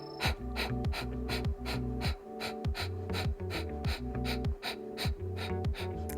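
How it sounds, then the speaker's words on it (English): Forceful nasal exhalations pumped rapidly during a yoga breathing exercise, a steady run of sharp breath bursts over continuous background music. "for 54 pumps, just like you're blowing out a candle through your nose"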